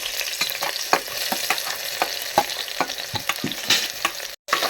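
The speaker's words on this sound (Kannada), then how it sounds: "ಈರುಳ್ಳಿ ಹಾಕ್ಕೋಬೇಕು ಚೆನ್ನಾಗಿ ಫ್ರೈ ಮಾಡ್ಕೋಬೇಕು" Onions frying in a pan for egg biryani, a continuous close sizzle with regular scraping stirs of a spoon, one brief dropout near the end.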